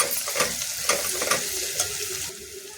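Green chilies and turmeric fry in oil in a pan for Delhi Prashanth-style curry, giving a close, steady sizzle with several stirring scrapes and spatter bursts, no voices.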